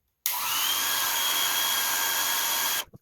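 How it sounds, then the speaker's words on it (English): A small hair dryer set to low, powered from a 120-volt mobile inverter, switches on abruptly and blows a steady, even whir with a faint whine for under three seconds, then cuts off. "a little hair dryer."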